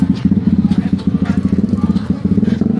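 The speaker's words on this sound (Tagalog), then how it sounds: "mga motor diri" Motorcycle engines rumble steadily and close in a village barangay street in Cagayan de Oro, with a rhythmic low idling putter that pulses continuously and no talk over it.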